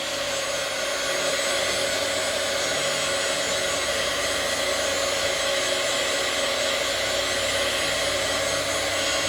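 A heat gun blows steadily and loudly over glitter adhesive, drying both the back and front of an abstract glitter background, a constant airy roar with no pauses or voices.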